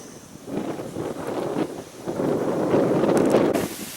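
Strong wind buffets the microphone outdoors beside a pond with whitecaps, a steady rushing roar that swells louder through the second half, with no one speaking.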